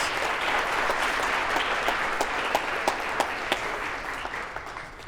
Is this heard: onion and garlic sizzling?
no